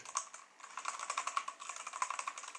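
Quiet, rapid typing on a Rexus Legionare MX10 mechanical keyboard, a dense run of soft, dampened key clicks close up with no talk.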